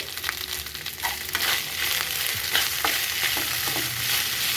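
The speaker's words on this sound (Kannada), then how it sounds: "ಈಗ ಇದನ್ನು ಚೆನ್ನಾಗಿ ಫ್ರೈ ಮಾಡ್ಕೊತೇನೆ ರೀ" Salt, chilli powder and turmeric fry in hot oil as a tempering for red chitranna, giving a steady bright sizzle with scraping stirs throughout and no talk.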